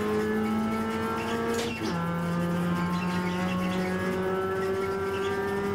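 A V8 race car in a GT sim racing game at Barber speeds past, its steady engine drone sliding sharply down in pitch at the passing moment, loud and continuous with other car engines around it.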